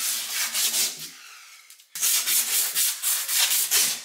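Hand sanding with sandpaper on a wall, steady back-and-forth rasping strokes in a regular rhythm, close up, with a short pause midway before the strokes resume.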